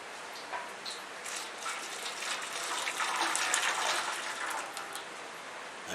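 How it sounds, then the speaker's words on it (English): Water tipped from a pan into an old tray while making salt, a steady, fairly faint pouring and splashing that runs for several seconds without pause. "tip the water in there."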